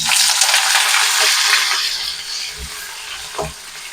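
Raw banana pieces drop into hot mustard oil and fry with a bright, loud sizzle that slowly fades, broken by a few soft knocks of a utensil against the pan.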